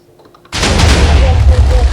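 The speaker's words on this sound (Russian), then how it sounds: "Подивіться, о, він бабахне зараз." A small stick of dynamite blowing up in a video game mod: a sudden loud booming blast that cuts in after near silence and rolls on as a heavy rumbling roar, close and dominant.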